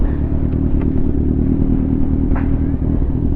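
A Kawasaki Ninja 1000cc motorcycle engine runs loud and close in a steady, throbbing drone with light mechanical clatter, no voices over it.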